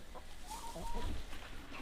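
Chickens being fed food scraps cluck in short, soft bursts, close by, with a low rustling background and no voices.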